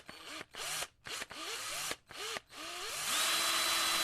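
Electric hand mixer whisking cake batter for a Dutch apple cake, starting and stopping in several short whirring bursts before settling into one continuous high motor whine, close and fairly loud.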